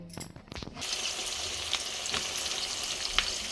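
Onions frying in a large wok for a chicken kosha, a loud, continuous crackling sizzle after a few opening stirs and clatters, with occasional sharper pops.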